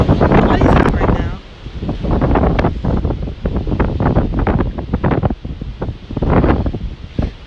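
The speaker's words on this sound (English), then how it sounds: "It's so windy out." Strong gusty wind roars against the microphone in loud surges, rising and easing, while a person speaks over it.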